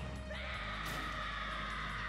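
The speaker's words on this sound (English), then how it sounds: "he sounds like a kid, or at least a teenager, screaming in pain" A Super Smash Bros. for Wii U character lets out a sustained, strained scream of pain that starts after a brief moment and holds at a high pitch over busy game sound.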